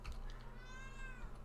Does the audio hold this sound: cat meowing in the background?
yes